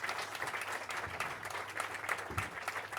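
Audience applause for the panelists at a business conference session on nature-based solutions, a short, fairly distant burst of clapping that holds steady, with no talk over it.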